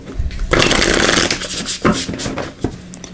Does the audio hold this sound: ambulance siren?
no